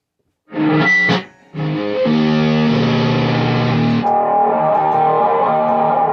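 An electric guitar plays through a delay pedal at minimum feedback and time, full mix, with distortion maxed, sustained chords ringing out loudly with a brief dip before continuing.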